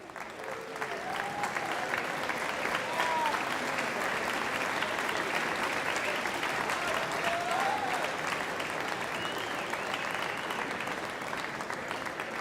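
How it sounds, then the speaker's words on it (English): Steady applause from an audience at a ping pong world championship final, dense and sustained throughout with a faint voice or two rising above the crowd. "can we get a round of applause first for Liang Chu?"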